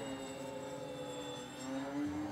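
A radio-controlled Deuces Wild model airplane flies overhead with retractable landing gear, its engine giving a steady droning whine that holds level and swells slightly toward the end.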